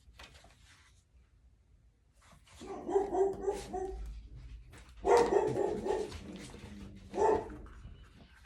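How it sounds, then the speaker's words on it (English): Several dogs bark excitedly indoors in three separate bursts of rapid, overlapping barks, moderately loud against a quiet room. "Dogs got excited."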